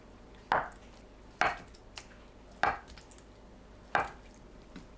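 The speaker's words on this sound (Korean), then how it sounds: "두부를 한 입 크기로 썰어주세요" Knife slicing through tofu into bite-size pieces on a cutting board, four crisp evenly spaced chops landing against the board, close and clear with quiet between strokes.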